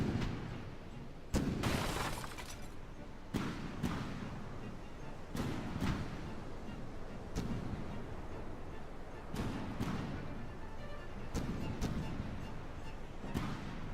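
Tank shells from a tank battle in the game From the Depths striking the ground, producing a series of sharp, crashing impacts spaced a second or two apart over a steady rumbling background.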